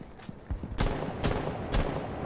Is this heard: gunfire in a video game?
yes